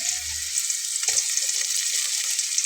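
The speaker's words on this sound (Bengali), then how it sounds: "তেলের উপরে ভেজে উঠলেই পেঁয়াজ কুচি করে নেওয়াটা দিয়ে দেবো।" Two medium-sized chopped onions sizzle steadily in hot oil for a chicken snack, with a constant hiss, a brief stir or clink near the middle and no talking.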